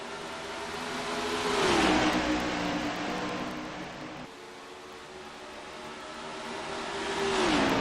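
Stock cars racing at Darlington in NR2003, engines whining loudly past in a Doppler sweep, then a second car roaring by, continuous engine drone without talk.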